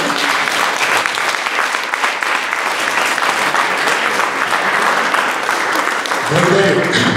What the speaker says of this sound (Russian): Хочу встретить громкими аплодисментами